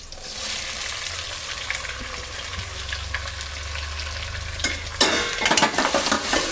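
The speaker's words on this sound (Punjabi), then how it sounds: "ਹੁਣ ਬਰਾਊਨ ਹੋਣ ਤੱਕ ਆਪਾਂ ਪਿਆਜ਼ ਭੁੰਨਾਂਗੇ" Chopped onions hit a pan after browned garlic for a Punjabi mah chole dal, giving a steady sizzle with scraping stirs that grow louder and busier toward the end; no one talks.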